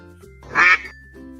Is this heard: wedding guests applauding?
no